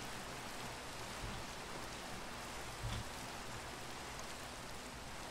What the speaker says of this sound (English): Oh, it's raining now, so.